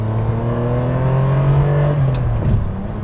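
A Ferrari 456 GT's V12 engine roars loudly and continuously, its pitch climbing under hard acceleration, heard from close by.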